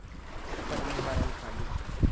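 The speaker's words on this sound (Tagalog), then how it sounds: "Laki ng alon." Large sea waves wash and roar during a boat launch, with wind buffeting the microphone throughout this short, fairly faint stretch.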